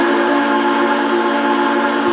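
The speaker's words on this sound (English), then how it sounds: "Oh, I like that whistle steam." A Big Boy 4000 model train engine blows its steam whistle, a loud, steady, chord-like tone that holds unbroken and close for the whole two seconds with no talking.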